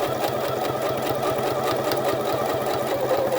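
Sewing machine running a continuous back stitch on a summer shirt, a close, steady, fast mechanical whir throughout with no pauses or talking.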